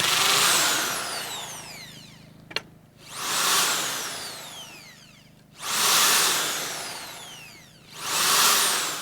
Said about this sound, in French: nous allons faire 4 pré-trous pour que le bois n'éclate pas lorsque nous allons visser les vis dans le tasseau